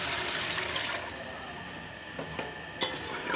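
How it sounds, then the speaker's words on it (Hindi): Water pours into a pot of roasted lentils for pressure-cooked dal, a rushing splash for about a second that eases into a quieter trickle with a few small clinks, no talking. "अब मैं ये इसके अंदर पानी डाल दूँगी।"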